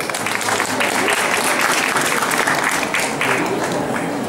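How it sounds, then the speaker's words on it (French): Audience applause at a conference talk in Provence: dense, sustained clapping from a crowd, loud and continuous throughout with no pauses. "On l'applaudit."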